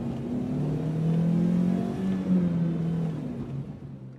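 A car pulls away from a motorway rest stop, its engine a steady, close, mid-pitched drone that swells slightly as it accelerates over a few seconds, with no talking.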